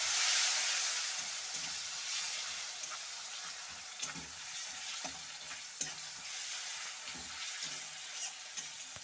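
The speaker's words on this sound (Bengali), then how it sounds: "তো এখানে আমার পেঁয়াজ আর লঙ্কাটা কিন্তু ভাজা হয়ে গেছে।" Onion and chilli sizzle steadily in a hot pan with a constant hiss, broken by occasional scraping clinks of stirring.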